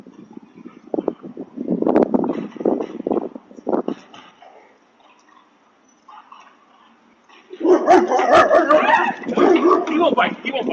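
A dog barks loudly and yips in rapid bursts, first in a cluster early on and then in a longer, dense stretch after a lull. People talk around the barking.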